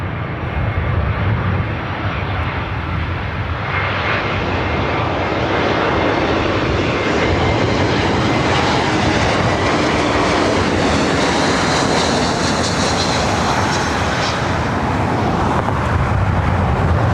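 JetBlue jet airliner at LAX, a loud continuous roar of engines filling the whole stretch, with a rising whine and heavy low rumble close by.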